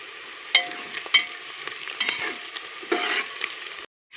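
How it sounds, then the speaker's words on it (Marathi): Onion and cumin seeds frying in a pan, being stirred while the onion browns; a steady sizzle runs throughout with scrapes and clatters of a spoon against the pan, close and moderately loud, no talking. "कांदा थोडासा ब्राऊन होतपर्यंत परतून घेणार आहे चांगला."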